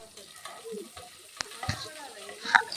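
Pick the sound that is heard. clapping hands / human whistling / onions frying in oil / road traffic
onions frying in oil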